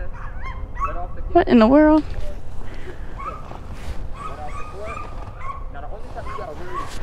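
A dog gives a short burst of high, whining yelps and a bark lasting about a second, fairly close and loud. It comes up amid talk and background noise, with people speaking before and after it.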